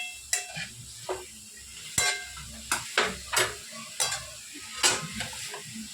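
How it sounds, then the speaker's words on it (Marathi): Chili powder being sautéed into cabbage curry in a pan, a steady sizzle broken by repeated scraping and clinking stirs of a spoon against the pan, close and without talk. "तर आपण यामध्ये टाकून आपण परतून घेणार आहोत एकदा"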